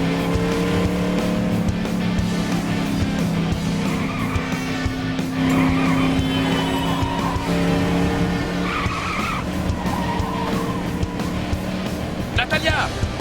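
Car engine revving with repeated loud tire squeals and skids in LEGO City Undercover, racing through city streets under ongoing character dialogue, with a sharp impact near the end.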